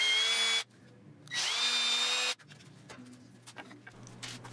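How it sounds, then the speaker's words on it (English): Power drill boring pilot holes into a riser in a workshop, two loud sustained bursts of whining drilling separated by a short pause, then quiet shop rattles and clicks. "make a mark, drill a couple pilot holes"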